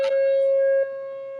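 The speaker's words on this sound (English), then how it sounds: "that is the siren alerting you" A loud, steady noon siren holds one flat tone, then drops abruptly in volume and continues more quietly until it ends.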